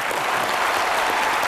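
Studio audience applause for cricketer Sachin Tendulkar on a comedy talk show, a dense, steady wash of many hands clapping at close range, loud and continuous throughout with no voices standing out.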